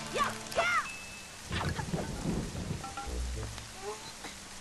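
Constant rain falls in The Legend of Zelda: The Wind Waker, a soft steady patter mixed with game effects and occasional rumbles, while someone talks over it.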